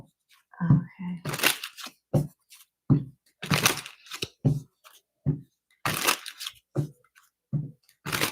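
Tarot cards are shuffled close-up in a series of short, crisp riffling and slapping bursts separated by brief pauses, about a dozen quick snaps in total.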